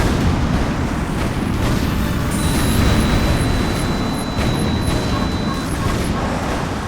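Explosions and roaring jet engines from the flight combat video game Hawks keep up a loud, dense rumble throughout, with occasional high electronic warning beeps over the din.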